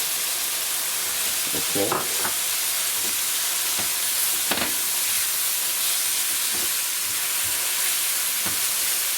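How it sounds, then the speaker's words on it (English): Whipped yogurt goes into a hot pan of king prawn masala, raising a steady loud sizzle and hiss with a few scraping stirs, while someone briefly speaks over it. "this is the whipped yogurt, so I'm going to put in the yogurt now"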